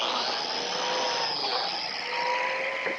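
A plate joiner cuts a biscuit slot into a wood board, its motor whining at a steady high pitch up close for a few seconds without any talking.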